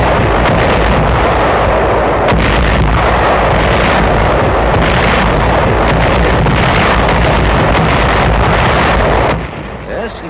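A World War II artillery barrage roars as a loud, dense, continuous wall of booming blasts and rumble, with no break until it drops away near the end.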